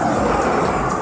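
A pickup truck engine, a Ford Raptor or RAM 2500, rumbles loudly and steadily up close at a truck showdown, a dense continuous roar with no talk over it.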